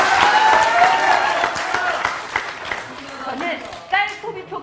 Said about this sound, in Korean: 동의하지 않으시면 박수 한번 부탁드리겠습니다.